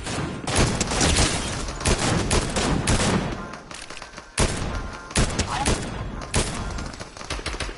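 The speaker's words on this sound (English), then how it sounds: "I can reload faster now with my pistol. All my bullets have missed." Bursts of pistol gunfire in the Fortnite video game, loud and dense, with rapid shots clustered into two main volleys separated by a brief lull and followed by scattered later shots.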